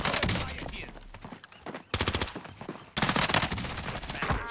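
Automatic gunfire in Call of Duty Warzone, loud close bursts of rapid shots broken by two short pauses, with some voice mixed in underneath.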